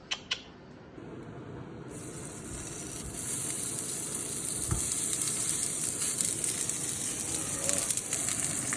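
A Wagyu beef burger sizzles in a hot pan with a steady, bright frying hiss that grows louder after a couple of seconds, close up, with a few small clicks and pops.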